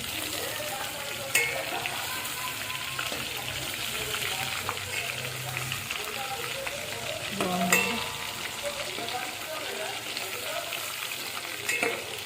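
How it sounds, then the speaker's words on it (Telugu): Stuffed brinjals for gutti vankaya curry fry in a pan with a steady, moderately loud sizzle and bubbling, plus an occasional stir or clink, and no voices. "ఇప్పుడు ఇంకొంచెం మళ్ళీ ఒక ఫైవ్ సిక్స్ మినిట్స్ ఉడకనిచ్చుకుందాం మంచిగా ఫ్రై అవుతాయి"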